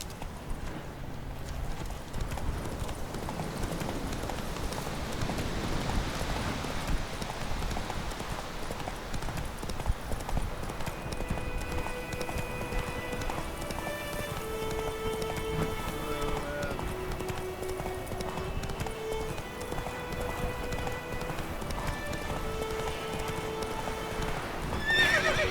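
Galloping horse hoofbeats from The Witcher 3: Wild Hunt, a steady running clip-clop with a whinny, continuing through game music and ambient sound over roughly twenty-five seconds.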